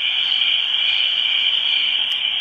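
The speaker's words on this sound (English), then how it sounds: "Next one is Summer Night. So it's like just cicadas and crickets and all that type of stuff." A Homedics white noise sleep machine plays its summer night setting of cicadas and crickets, a dense continuous high-pitched buzzing drone at steady loudness with no talk.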